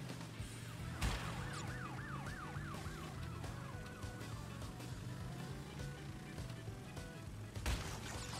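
A wailing police car siren from the Crash Bandicoot N. Sane Trilogy game rises and falls in repeated sweeps over game music and engine noise, with sharp impact bursts near the start and end.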